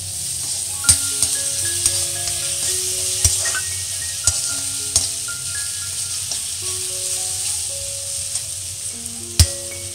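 Ginger, garlic and chili paste sizzles with onion in a pan for street-style pav bhaji, a steady bright hiss broken by occasional sharp spatula clicks as it is stirred.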